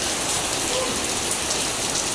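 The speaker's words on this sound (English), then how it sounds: "the incessant downpours turned busy streets into waterways" Heavy southwest monsoon rain pours down in Metro Manila during a tropical storm, a dense and steady loud hiss of rain beating on surfaces with no pause, and no voices.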